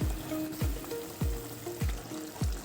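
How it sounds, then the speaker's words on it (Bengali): Fried tilapia pieces are dropped one by one into boiling water in a pan for a spicy curry, making about five soft, evenly spaced plops over a continuous bubbling simmer. "জল ভালোভাবে ফুটে উঠলে ভেজে রাখা মাছগুলো দিয়ে দিচ্ছি।"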